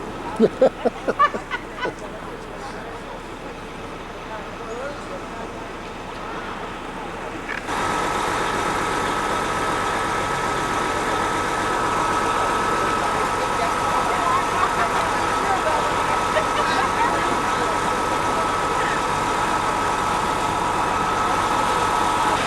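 A noisy bus idles near the Capitol beside the river, a low, steady engine rumble that swells after a quieter opening with a few clicks and stays loud and continuous to the end.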